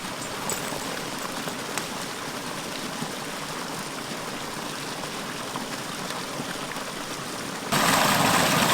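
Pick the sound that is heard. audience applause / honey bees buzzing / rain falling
rain falling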